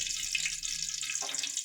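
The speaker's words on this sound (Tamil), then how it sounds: "பற்ற வச்சு எண்ணெயை ஊற்றிக்கோங்க." A short, steady trickle of cooking oil being poured into a heated pan for veg kurma curry, a thin continuous liquid hiss with a slight gurgle near the end, no talking.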